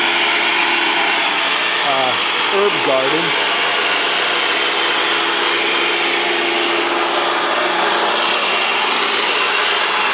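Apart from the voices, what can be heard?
electric garden tiller tilling an herb garden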